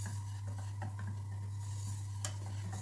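A spoon stirs flour toasting with spices in a pot, giving soft scraping and light clinks over a steady low hum at a quiet, close level.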